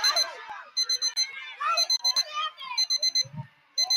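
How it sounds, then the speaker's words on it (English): A siren sounds at the end of a rugby league nines match as a run of repeated high electronic beeps in short clusters, with a commentator talking over it throughout. "the siren sounds in the background"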